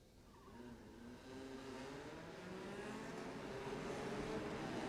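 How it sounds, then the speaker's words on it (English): Formula LGB race cars pulling away on the formation lap at a JK Tyre race meeting, a steady blended engine roar at some distance that gradually grows louder, with no talk. "so they're off for the formation lap"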